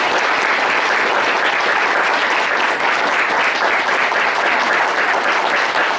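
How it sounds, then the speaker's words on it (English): A crowd applauds steadily and loudly, dense clapping sustained without a break throughout. "let's give a round of applause"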